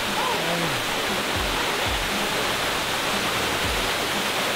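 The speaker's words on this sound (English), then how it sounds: "I think it's the first real waterfall we've seen." A real waterfall at Hatfield McCoy, a steady loud broadband rush of falling water filling the whole clip, with a few low rumbles underneath and no clear talk.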